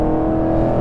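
A Dodge truck passes close by with a steady, rumbling engine tone that holds level through the short moment.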